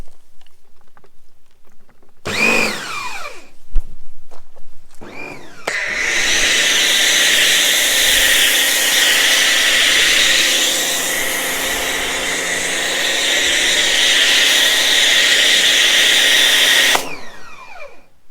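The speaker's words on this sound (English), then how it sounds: "So we'll get the pressure washer back on." A pressure washer fitted with an Autoglym Polar Blaster snow foam cannon starts after a couple of short clicks and bursts, then runs as a loud, steady, hissing drone for about eleven seconds before cutting off.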